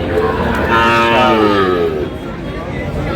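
A Sahiwal bull on a farm in Pabna lets out a long, loud, rising-and-falling moo close by, with faint voices and background chatter around it.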